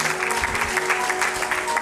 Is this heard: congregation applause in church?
yes